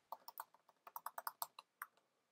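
Rapid, uneven bursts of keys clacking on a computer keyboard while a chat message is written, close and fairly quiet, with no other sound around them.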